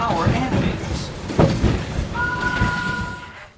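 Rumbling, rattling ride on the Wildlife Express train to Rafiki's Planet Watch at Disney's Animal Kingdom, a steady clatter with a few knocks and a brief two-tone whistle or horn near the end, people chatting faintly underneath.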